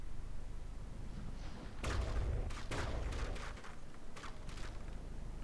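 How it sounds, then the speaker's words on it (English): Shells explode aboard a sinking ship in the From the Depths video game: a muffled boom and a few short crackling bursts, quiet and distant over a low rumble. "There's a bigger explosion than I expected. I think a couple of shells hit something explosive."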